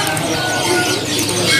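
Canaries in cages at a bird market, a loud, continuous wash of chirps and bird calls mixed with crowded market noise, close and steady throughout.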